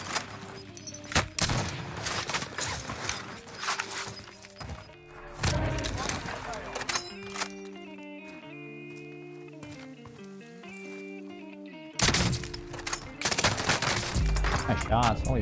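Rapid bursts of MP40 submachine gun fire in a Warzone match come in dense volleys at the start, middle and end. A quieter musical stretch falls between them, and players talk excitedly over the action.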